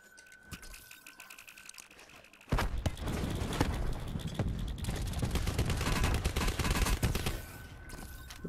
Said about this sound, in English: They've been trying to shoot me from behind.